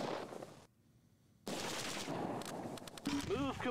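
Bursts of machine gun fire in the World War II strategy game Close Combat 2, rapid crackling rattles broken by a brief silence, then renewed dense gunfire with a short voice-like call near the end.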